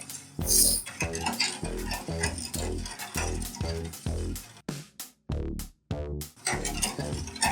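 A utensil scraping and stirring orange sugar syrup in a pan on the stove, rhythmic repeated strokes with a few brief pauses, close and fairly quiet.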